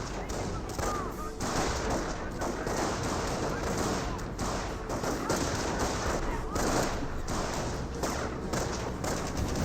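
Gunfire and tank cannon shots from the Company of Heroes 1 real-time strategy game, Panzer Elite against US forces, with a Panzer firing at a Hellcat; dense bursts of shots and thuds run continuously under a commentator's talk.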